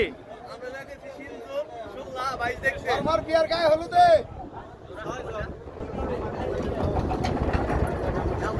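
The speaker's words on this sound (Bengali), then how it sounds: "আমাদের বুট চালু করে ফেলাইলাম, আমরা চলে যাচ্ছি।" The engine of a rented trawler boat, hired for an outing to a boat race, starts up under lively talk, then settles into a steady, rumbling drone once the voices fade.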